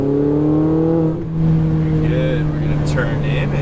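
Ferrari 488 GTB held at half throttle through a corner, its engine a steady loud drone with a brief dip before picking back up, heard from inside the car.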